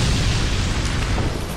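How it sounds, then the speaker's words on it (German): A cannon shot in the video game Dark Souls II, a heavy, rumbling boom that fills the whole short moment with dense, close, roaring noise. "Kanonenschuss!"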